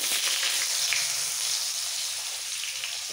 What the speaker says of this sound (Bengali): এইবার এই তেলের মধ্যে বাকি সবজি দিয়ে দেবো